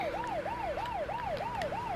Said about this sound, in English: it's got like working sirens that you can do.